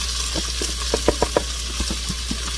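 Curry chicken rice gets stirred in a pot over steady bubbling and sizzling, with a few light scrapes and knocks of the spoon against the pot in the middle.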